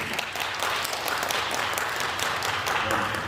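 Brief, steady applause from a church audience at a Christian Endeavour lecture, moderately loud clapping filling the room without a break.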